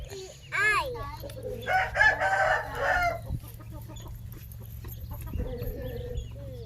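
A rooster crows loudly nearby, followed by clucking and scattered calls, then quieter background noise with a steady low hum.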